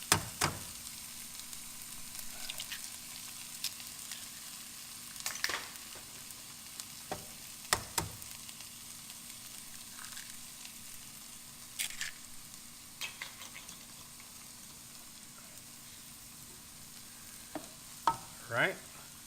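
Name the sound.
eggs frying in pan with smoked fish fried rice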